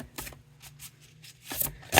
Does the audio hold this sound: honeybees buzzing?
no